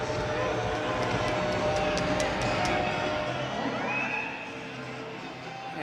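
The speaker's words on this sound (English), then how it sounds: "We'll see if you can hear the crowd reaction." Hockey crowd at the Crown Coliseum during a Fayetteville Marksmen game, a loud, dense roar of voices and cheering filling the arena, swelling steadily then easing slightly near the end.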